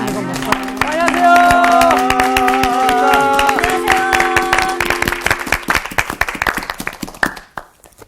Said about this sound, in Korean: 박수 한번 이거 먹고